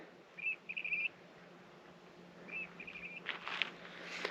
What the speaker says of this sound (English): You can probably hear the birds.